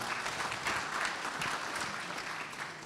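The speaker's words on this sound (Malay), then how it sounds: "Kita berikan tepukan sekali lagi kepada Yang Berbahagia Tun." Audience applause at a public forum on the implementation of hudud law, a steady, even wash of many hands clapping throughout with no talk over it.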